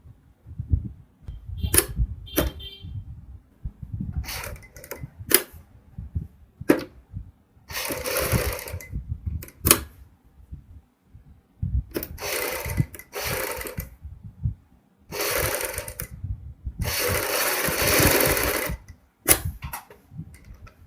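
A sewing machine stitches a kurti boat neck in short bursts, its rapid mechanical whir starting and stopping several times, with sharp clicks and taps between the runs and no talking.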